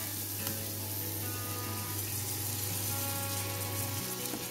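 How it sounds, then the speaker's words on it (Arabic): Onions fry in a pan as tomato sauce goes in, giving a steady close sizzle with faint stirring and liquid sounds throughout. "غادي نزيدو عليها لاصوص طوماط"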